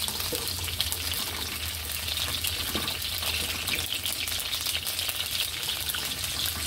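Ginger fries in a hot pan, giving a continuous dense sizzle that stays even and close throughout, with no voices.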